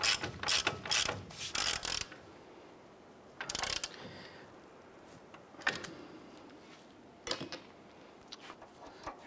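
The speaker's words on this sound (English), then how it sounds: "We're gonna use our 22 millimeter socket." A ratchet with a 22 mm socket tightens an upper ball joint nut on a 2011-2018 Ram 1500, giving quick close clicking bursts followed by a few separate short clicks and metallic clanks.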